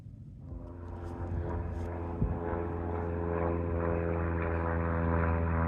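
A propeller plane flying low over a wooded state park, its droning engine swelling steadily louder and close overhead with strong harmonic whine, no talking.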